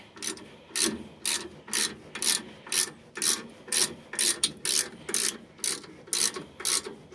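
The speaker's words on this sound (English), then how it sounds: "Keep on wrenching down on it." A wrench ratchets against a stuck rear brake rotor on a 2007 Ford F150, a rhythmic series of about a dozen sharp, evenly spaced clicking strokes with creaking metal, close and loud with no talk.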